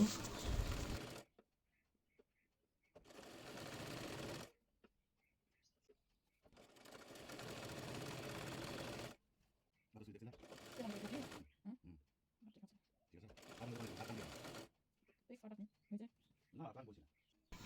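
A domestic sewing machine stitches a folded hem on a baby kaftan in several separate bursts of steady, rapid mechanical whirring, with quiet pauses between runs and faint handling sounds.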